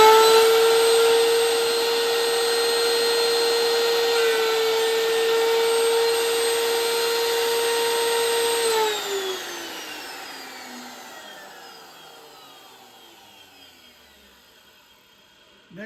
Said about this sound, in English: I've got a piece of scrap wood here now, and I'm going to do a little cutting.